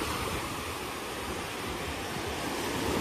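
Indian Ocean surf at Pantai Tiram beach sends up a dense, continuous wash of breaking waves. The roar is broad and steady, with some wind noise and no voices.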